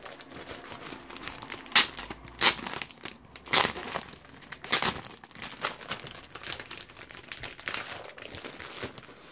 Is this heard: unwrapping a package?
yes